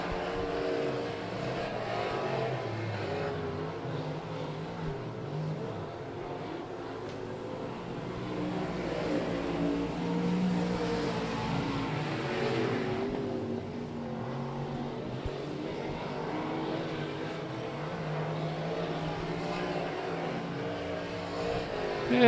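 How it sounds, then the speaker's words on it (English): Street stock race cars drone around the oval track in single file, a continuous layered engine roar rising and falling at moderate distance with no talk. "single file racing with 3 cars out of 4 still out on the track"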